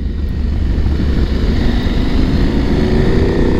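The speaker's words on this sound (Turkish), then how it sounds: "890 SMT son dönemde pek çok arkadaşımızın dikkatini çeken bir motosiklet." A KTM 890 SMT motorcycle riding in hot weather, heard as a loud, steady, dense roar of engine and wind rush that continues without a break throughout.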